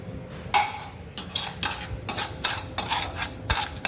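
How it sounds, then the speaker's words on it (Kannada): Rice dry-roasts without oil in a pan over medium flame while a spoon scrapes and stirs it in repeated strokes, with a soft steady rustle and light sizzle underneath. "ಇದು ಅಕ್ಕಿ ಹುರಿತಾ ಇರೋದು"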